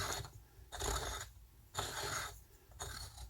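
Ratcheting, clicking mechanical turns as an SBA3 brace is screwed onto the threaded rear of a Kriss Vector, coming in about four separate close bursts with brief pauses between them.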